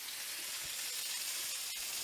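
Beef browns in a hot pan with a steady, soft sizzle and crackle, and one brief louder pop near the end.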